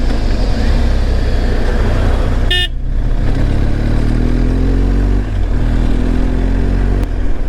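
A motorcycle engine drones loudly and close while overtaking on a mountain road between Munsiyari and Delhi, with a sharp horn toot partway through and rising engine pitch as it accelerates, under constant wind rush.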